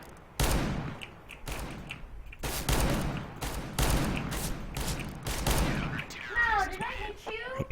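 Gunfire in the game CS:GO during a revolver duel, loud bursts of shots and impacts packed close together over several seconds, ending in a brief ringing, whining tail.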